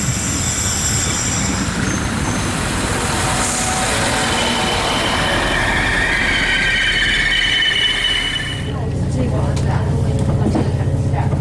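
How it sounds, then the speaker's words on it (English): Train on the 18:29 service back to Dublin Euston in Ireland, running loudly and steadily on the rails with squealing wheels and rumble, and a deeper rolling change near the end. "Here's the train back to Dublin Euston, 1829 service."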